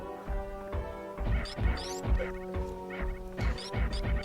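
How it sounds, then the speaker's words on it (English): Bird-like creatures in Super Metroid give repeated rising, chirping cries over loud, rhythmic crashing game sounds and sustained tones, several bursts recurring throughout. "these things sound like birds"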